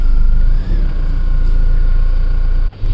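A car engine idles steadily after starting, a low continuous rumble with a faint whine above it and a brief dip near the end.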